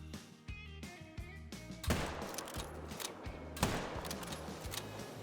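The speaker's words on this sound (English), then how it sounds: "Okay, shots into both." Rifle shots ring out while hunting tahr in Call of the Wild: two sharp, loud reports about two seconds apart, each with a long echoing tail, over a background of faint, rhythmic outdoor ambience.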